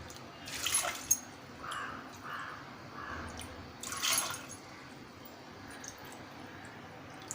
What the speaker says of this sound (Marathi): आपण यामध्ये 3 वाट्या पाणी टाकून घेऊया।